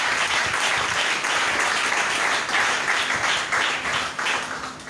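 A church seminar audience applauds and cheers in praise of the Lord, steady, dense clapping filling the whole stretch with rising and falling swells.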